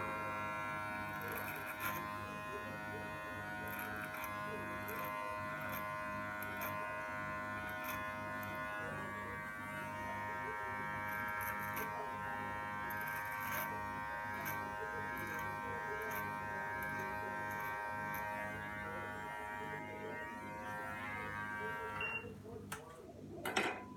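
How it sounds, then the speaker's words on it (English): An electric beard trimmer set to 6 mm runs continuously with a steady high-pitched buzz, close and fairly quiet, for about twenty seconds before being switched off with a few clicks. "The beard trimmer, I'll set it to 6 mils."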